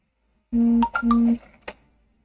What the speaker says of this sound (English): Oops, my phone just vibrated.